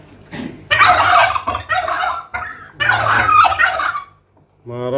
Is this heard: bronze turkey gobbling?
yes